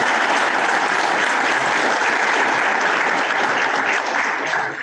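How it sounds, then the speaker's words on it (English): Luncheon audience gives a speaker a dense, steady round of applause, many hands clapping together close by, tapering slightly at the very end. "Let's give Paul a little round of applause"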